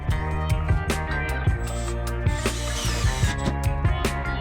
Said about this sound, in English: I'm going to drill a hole right here in the middle